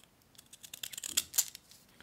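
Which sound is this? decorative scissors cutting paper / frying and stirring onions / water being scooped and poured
decorative scissors cutting paper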